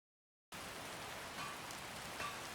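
Steady rain falls in Skyrim, an even, soft hiss of drops that starts after a brief silence and continues faintly and unbroken.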